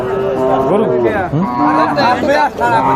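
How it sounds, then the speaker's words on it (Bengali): Cattle at a Bangladeshi livestock market bellow loud, long moos close by, one after another, with crowd chatter underneath. "এই হাটটাতে ব্যাপক গরু আসে"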